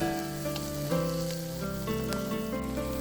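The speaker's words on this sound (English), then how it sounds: "Now throw in your garlic and peppers. Stir fry these together for a couple minutes till your vegetables start to get soft." Garlic and peppers stir-frying in a hot pan for cashew chicken, a steady close sizzle with faint clinks and scrapes of stirring, no voices.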